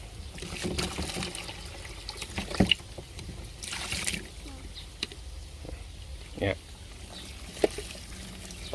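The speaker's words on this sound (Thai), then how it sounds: "ใส่น้ำประมาณครึ่งกระมังนะครับ" Water poured into a basin, about half full, for treating a sick betta fish: a steady, running splash and trickle that goes on throughout. Someone talks over it and there are occasional knocks.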